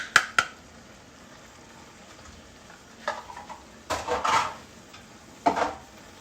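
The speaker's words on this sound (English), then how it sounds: "So we'll just give that a good stir." A spoon scrapes and clinks in a pot of spicy Cajun seafood stew with green onions and chili peppers. A few short metallic knocks and rustling stirs come over a soft simmering hiss, close and moderately quiet.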